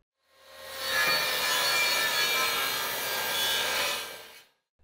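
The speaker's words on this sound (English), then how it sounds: "So we cut a 45 degree angle with this piece of trim using the table saw." Jobsite table saw cutting a 45-degree angle through a piece of wooden trim, a steady loud whining cut lasting about four seconds that rises in and falls away, heard alone at close range.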